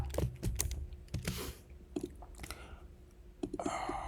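Keys clatter on a computer keyboard in irregular short bursts of clicks, close and fairly quiet, with small pauses between strokes.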